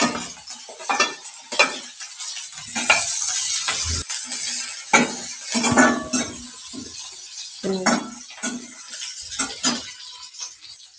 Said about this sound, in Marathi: गॅस कमी करून आपण फ्राय करून घेऊ.